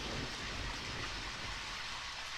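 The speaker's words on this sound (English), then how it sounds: "Oh wait, it's raining!" Steady rain hisses in a video game, a dense, even wash of falling drops with no gaps, soft and continuous throughout.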